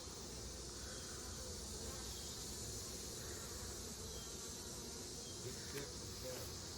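Honey bees swarm over a frame of uncapped nectar in an opened hive, giving a steady, dense buzzing hum that runs evenly throughout at close range.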